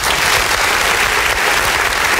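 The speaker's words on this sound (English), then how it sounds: "A big round of applause for the Grade 3 class representing Italy!" School audience applauding a Grade 3 class's Tarantella performance at a student United Nations event, a loud, dense, continuous burst of many hands close by.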